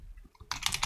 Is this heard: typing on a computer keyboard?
yes